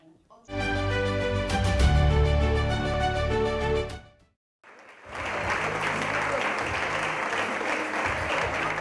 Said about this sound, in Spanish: Así, con grandes aplausos y sonrisas,